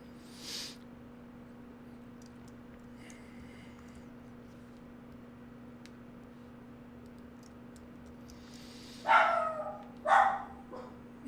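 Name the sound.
dog barking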